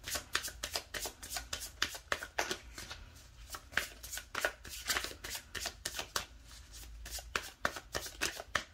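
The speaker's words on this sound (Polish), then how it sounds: "Natomiast teraz ja tutaj jakby przygotowuję karty, tasuję karty" A deck of tarot cards being shuffled, with a rapid run of crisp riffling snaps and papery flutters repeating steadily throughout, close and fairly quiet with no talk.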